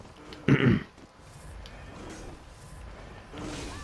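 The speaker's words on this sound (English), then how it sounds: "I didn't mean to cough in your ear" A single sharp cough from a man near the microphone, one loud burst in a quiet room followed by faint background noise and soft game sounds.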